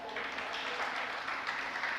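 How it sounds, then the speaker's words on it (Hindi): Audience at a spiritual discourse clapping together, a faint, steady patter of many hands heard from some distance, continuous for the whole short stretch. "हाँ, अच्छे से तालियां बजाओ"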